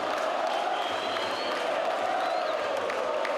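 Football crowd in a stadium roaring and cheering in delight for a Flamengo player, a dense, loud, sustained wall of voices with whistles cutting through, heard without interruption.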